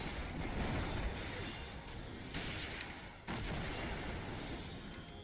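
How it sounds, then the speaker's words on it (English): Muffled, rumbling explosions boom at a distance under a faint, noisy background, with a couple of sudden thumps. "Oh, you're gonna cause explosions."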